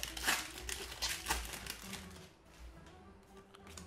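A Pokémon card booster pack being opened by hand, with crinkly foil wrapper crumpling and tearing in quick close bursts, busier at the start and then easing into softer rustles.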